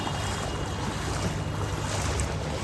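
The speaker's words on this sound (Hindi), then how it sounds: "ये देखो भाई दरिया किस तरीके से चल रहा है भाई" Floodwater rushes fast through the streets of Haridwar after a cloudburst, a loud, constant broadband roar and hiss of churning water with no breaks and no voices.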